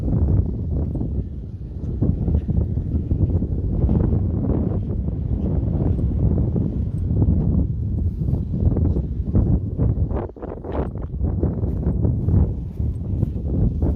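Strong wind buffets the microphone on a sunny solo walk outdoors, a loud, continuous low roar and rumble close up with gusty surges throughout and no talking.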